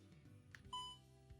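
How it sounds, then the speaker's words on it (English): A DJI OM 6 gimbal powering on: a short electronic beep sounds once, clear and tonal, after a faint click and some handling noise in a quiet room. "That beep sound means that OM 6 is on and ready to be used."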